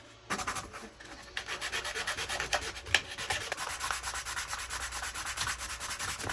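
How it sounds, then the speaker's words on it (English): A plastic piece for a Stormtrooper thermal detonator prop is rubbed back and forth on sandpaper laid flat on a table, producing close, continuous rasping strokes in a steady rhythm with one sharper scrape partway through. "take this sandpaper, put it flat down on the table, take this and rub it along the table to make sure that this is a nice flat edge"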